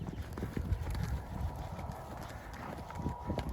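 Horse hooves clip-clop steadily in a small round pen during a young horse's first ride, a quick continuous rhythm close by with faint background sounds.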